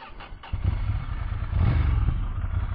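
A Ducati Scrambler motorcycle pulls away and rides on, its engine note rising and then holding at a steady, loud, close rumble with a brief quieter moment at the start.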